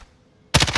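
Automatic weapon fire in the video game Call of Duty: Warzone, a sudden loud burst of rapid shots after a half second of near quiet, continuing to the end.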